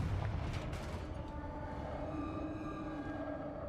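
Confringo blasting curse explosion in Hogwarts Legacy: a faint, muffled boom at the start that trails into a low, continuous rumble.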